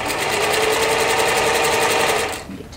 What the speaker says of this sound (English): It looks like it's going to pucker, but don't worry, it's not going to. And just keep sewing around.